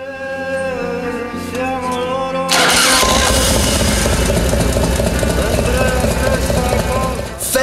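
A Harley-Davidson motorcycle with a newly replaced rotor and stator is started after a few seconds of whirring, then roars into a loud, steady running idle that stays close and dominant.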